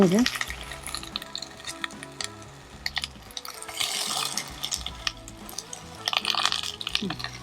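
Vegetables for avial kootu, including plantain and brinjal, are stirred in a very hot cooker, giving a steady loud sizzle and frying crackle with scraping stirs and occasional metallic clinks.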